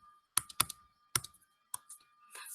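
Keys click on a computer keyboard while C code is typed, a few distinct close taps in uneven bursts with near-silent gaps between them.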